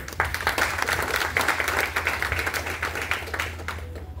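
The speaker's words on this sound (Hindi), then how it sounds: "तो एक ताली आप अपने लिए बजाइए।" Audience at a Hindi book event claps steadily for several seconds, a continuous patter of many hands at moderate level.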